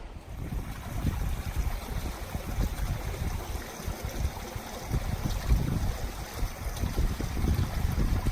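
A partly frozen river flows along a snowy Himalayan trail between Dingboche and Lobuche, its soft, steady rushing and trickling water faint and continuous with no voices.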